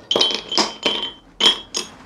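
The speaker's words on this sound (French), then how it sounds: "On vient remettre quelques glaçons dans notre verre" Ice cubes drop into a cocktail glass while a Jägermeister drink is being made, five bright glassy clinks in an uneven rhythm, close and clear with nothing else heard.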